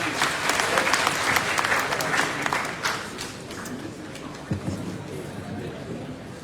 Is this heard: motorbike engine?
no